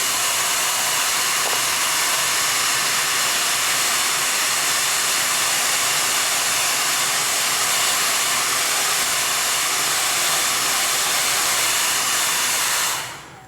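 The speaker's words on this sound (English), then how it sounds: "blow dryers are great" A handheld blow dryer runs steadily at close range, drying freshly made clay pottery handles before they are attached to a vase; a continuous loud whooshing hiss that cuts off at the very end.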